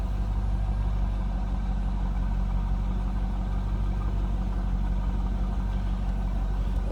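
A 2000 Chevrolet Corvette convertible's engine runs at a steady idle, heard close from behind at the exhaust, a constant deep rumble with no revving or talk.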